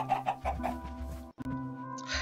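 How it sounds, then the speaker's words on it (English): Chickens cluck in quick bursts over a steady electronic game soundtrack, with a brief dropout partway through. "You little chickens have a habit of escaping on me."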